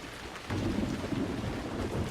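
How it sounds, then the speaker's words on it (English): Video game rain and thunder from Emergency 4: steady rain pours with a low rumble of thunder rolling underneath, the sound swelling after a brief quieter moment and holding constant. "Sounds like it's raining outside,"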